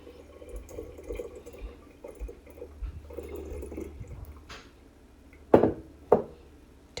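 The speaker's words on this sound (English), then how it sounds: "You're just going to pour it into a bottle." Strawberry shrub syrup being poured into a bottle makes soft, gurgling liquid trickles and drips up close, followed by a couple of sharper glassy knocks.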